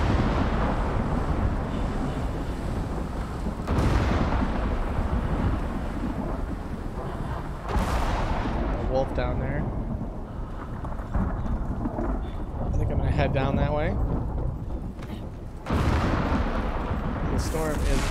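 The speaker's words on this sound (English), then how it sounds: "let's stand up on a cliff in a lightning storm" Thunder in a lightning storm on a cliff top in the survival game Icarus, a continuous heavy rumble with loud cracks and renewed rolls, under a voice talking.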